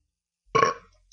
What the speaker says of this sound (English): That was kind of a pathetic burp.